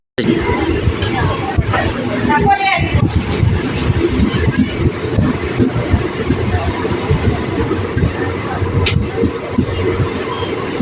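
A Chennai Egmore to Tiruchendur special summer express train runs between Srirangam and Trichy, with a loud, steady rumble of wheels and carriages that fills the whole stretch, and faint crowd murmur mixed in.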